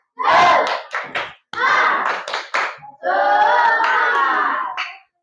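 Classroom cheer clap in an Indonesian school lesson, students clapping in a rhythmic pattern in short loud bursts separated by brief pauses, mixed with chanted voices and ending in a longer sustained burst.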